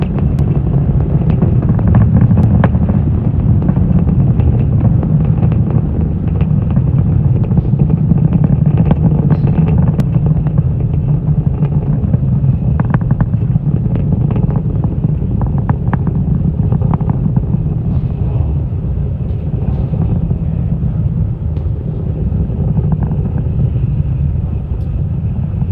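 A SpaceX Falcon 9 climbs from LC-39A at Kennedy Space Center on a Starlink launch, going supersonic. A loud, continuous low rumble with a rough, wind-buffeted texture holds steady throughout, with no speech.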